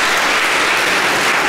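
A large audience at a recital of young pianists breaks into dense, loud applause, with continuous clapping filling the whole moment and no voices on top.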